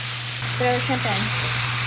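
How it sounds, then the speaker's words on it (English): Shrimp marinated with black and white pepper sautéing in a pan, a close, even sizzle over a low steady hum, with a brief murmur of voice partway through. "Throw the shrimp in."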